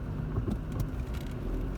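Road traffic on a congested street: a steady low rumble of cars passing nearby, continuous and moderately loud with no talk.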